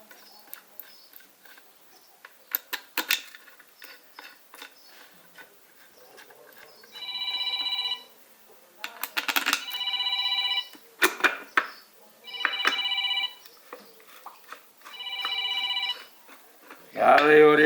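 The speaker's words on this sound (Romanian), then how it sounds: "Prietenul meu Dragoș mă sună să vadă starea" A phone rings with an incoming call in a workshop where a D 115 engine's timing mechanism is being assembled. Four or five steady electronic ring bursts repeat at even intervals between scattered metallic clicks and taps.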